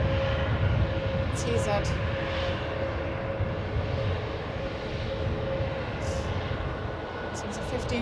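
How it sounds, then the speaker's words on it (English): An EasyJet Airbus A320-200 at Manchester Airport sends out a steady, loud jet engine roar with a constant tonal hum, while a voice talks briefly over it. "right now we've got an EasyJet Airbus A320-200 going to Amsterdam"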